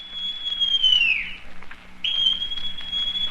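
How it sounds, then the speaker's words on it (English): A whistle blown in an audio drama of Treasure Island: two long, shrill, steady blasts, the first sliding down as it ends, then a short gap before the second begins. "Then Silver brought out a whistle."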